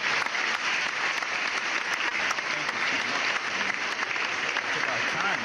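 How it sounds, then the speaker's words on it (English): An audience gives sustained applause on a talk show, a dense, even roar of many hands clapping that holds steady from start to finish, close and full. "let me hear an applause"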